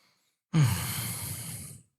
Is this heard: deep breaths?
yes